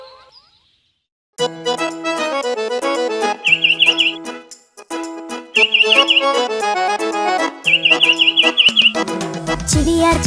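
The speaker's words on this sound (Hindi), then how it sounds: "चिड़िया चुगने आई दाना, ची ची ची ची गा कर गाना।" Sparrow chirps in quick repeated bursts of high tweets, heard three times over a bright, loud instrumental backing for a children's rhyme.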